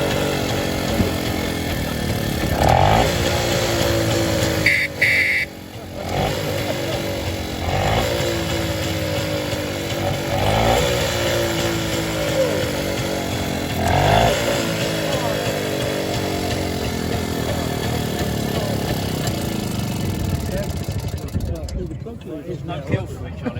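A classic motorcycle is started and revved at a show arena, its engine note running steadily throughout with a few sharp throttle blips, while a crowd murmurs and someone talks nearby.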